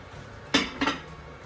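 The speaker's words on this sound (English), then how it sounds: "So I'm going to continue to stir my rice" A utensil stirs parsley rice in a pot, making two quick, fairly faint clinks against the metal, heard alone with no talking.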